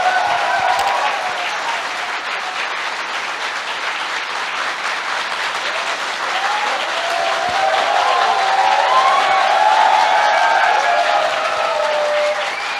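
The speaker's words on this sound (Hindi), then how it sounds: "एक जोरदार तालियां होनी चाहिए" Loud, sustained applause from a large audience at a business training session fills the whole stretch, dense clapping that swells slightly near the end with a few faint voices mixed in.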